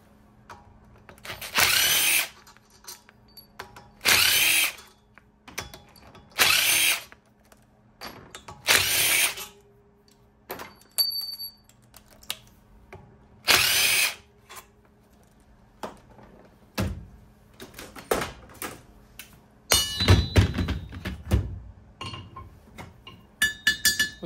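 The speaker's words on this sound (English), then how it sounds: "remove any bolts that I can get to on the outside of the" A power tool removing bolts from the casing of a 52-pound electric motor, with several loud whirring bursts separated by pauses, followed by metallic clinks and clatter of parts being handled.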